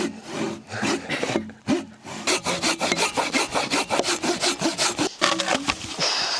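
Two people hand-sawing a felled tree into firewood in freezing outdoor conditions, a steady rasping back-and-forth of saw teeth through wood, loud and close, with rhythmic strokes that quicken midway and a brief pause.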